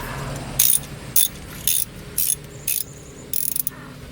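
A ratchet wrench clicks as wheel lug nuts are tightened on a Mazda 3 after a front rotor change, with six short bursts of close, crisp ratcheting at a steady rhythm.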